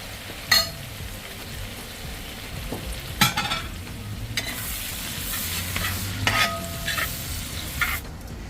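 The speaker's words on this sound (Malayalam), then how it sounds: "ഇനി അതിലോട്ട് സവാള, പിന്നെ ഒരു 3-4 പച്ചമുളക്, പിന്നെ കുറച്ച് കറി ലീവ്സ് എല്ലാം കൂടെ നമുക്ക് കൊടുക്കാം." Onion, green chillies and curry leaves sautéing in a hot pan, a steady close sizzle broken by several stirring scrapes and a utensil clink, with no voices.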